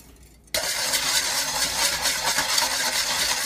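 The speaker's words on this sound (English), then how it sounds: "Grab our whisk. Dissolve the salt." A whisk works rapidly through salt and minced shallot in a bowl, starting abruptly after a brief quiet moment and continuing as a dense, even rattling swish close by.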